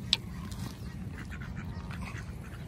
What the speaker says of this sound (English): Come on, geese. Yeah, there's some geese.